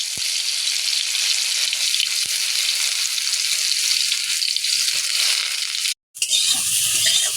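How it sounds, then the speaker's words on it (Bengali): Soaked soybean chunks frying in oil in a wok, giving a loud, steady sizzle that runs without pause until a brief silent gap near the end, then resumes. "কড়াতে তেল দিয়ে দিয়েছি, এবার এই সয়াবিনগুলোকে ভালো করে ভেজে নিই।"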